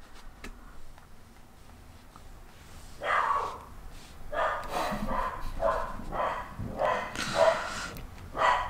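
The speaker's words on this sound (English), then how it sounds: "My dog saw a squirrel" A dog in a backyard barks at a squirrel, letting out a run of repeated, fairly close barks in uneven bursts after a quieter opening.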